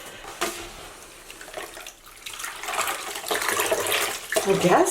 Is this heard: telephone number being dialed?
no